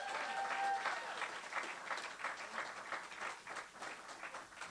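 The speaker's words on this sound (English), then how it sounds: "Another round of applause, please, you guys," Audience applause at a live performance lounge, a broad, sustained wash of many clapping hands that holds steady throughout, with a brief whistle or cheer near the start.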